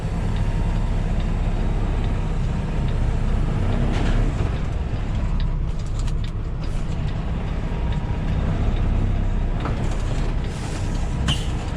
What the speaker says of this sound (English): he's pulling the trailer, he's moving the trailer